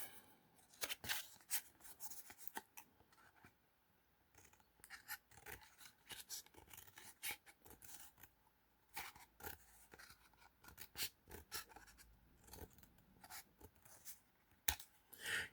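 Scissors snip repeatedly through paper or a similar material, close and quiet, a scattered run of short rasping cuts with brief pauses and no talking.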